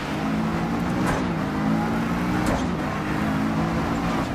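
Racing-game car accelerating with a steady engine drone and a faint turbo whine running throughout, loud and continuous with slight pitch shifts, no voices.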